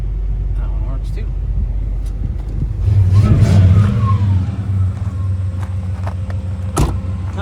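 A 1993 Chevrolet Caprice wagon with a 5.7 V8 idles nearby with a low rumble, then gives one short rev that swells and settles back to idle.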